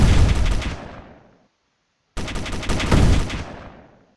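Heavy gunfire from a frigate's weapons in the space combat game Space Engineers: two loud sustained bursts of rapid shots, each fading out, separated by a short silence.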